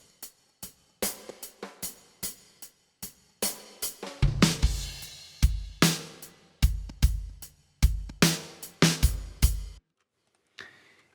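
A hi-hat run through Yamaha Rev 7 reverb emulated in Altiverb, for a punk-meets-classic-rock track, ticking steadily through a busy pattern, each close hit trailing a short, soft reverberant tail, with denser, fuller strikes in the middle.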